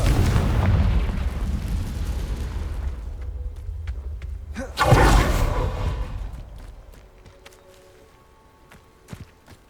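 Confringo fire spell exploding in Hogwarts Legacy, a deep rumbling blast that swells midway then fades, over a loud low rumble and followed by scattered small clicks and thuds.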